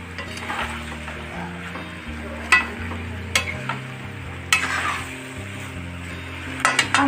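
A spoon stirs potato and pumpkin sabzi (aloo kaddu) in a cooking pot, with steady scraping and a few sharp clinks against the metal over a soft sizzle, close and fairly quiet throughout.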